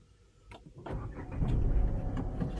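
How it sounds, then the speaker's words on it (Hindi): A car's engine cranks for a moment and catches, then rises into a steady running rumble close by, with no one speaking. "मैं करता हूं गाड़ी को स्टार्ट"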